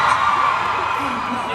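A large convention crowd at a VidCon 2022 stage performance roars and cheers in a steady, loud wash of voices, a sustained swell that holds without a break.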